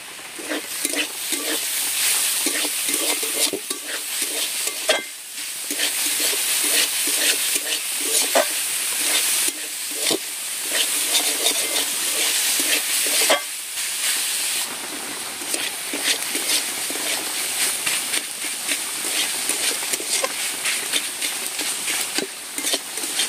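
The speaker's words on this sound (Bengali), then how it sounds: "থোড় ভাজা হয়ে গেছে, এখন এটা আমি নামিয়ে নেব।" Banana stem (thor) frying in a pan as a vegetarian dish with sugar added, giving a steady, close hiss and sizzle with brief scraping stirs throughout.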